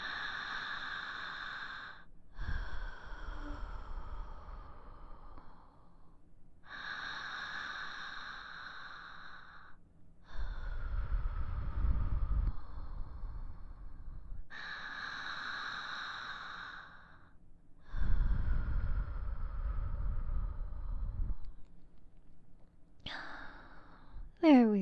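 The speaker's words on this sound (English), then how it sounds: "Breathe with me." Slow, deep breaths drawn in and let out in long, even cycles, close and soft, in a calm bedtime setting with quiet pauses between each breath.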